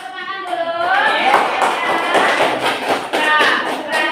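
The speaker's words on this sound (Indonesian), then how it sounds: "kasih tepuk tangan dulu" Students in a classroom clap together in a quick, uneven patter of small hands, loud and close, while children's voices chatter and call out over the claps.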